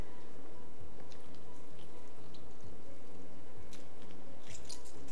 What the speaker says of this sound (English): I'm going to squeeze it through my strainer here so I don't get any seeds.